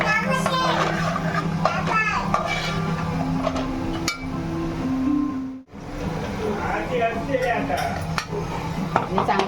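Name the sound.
stirring fish curry gravy in a pot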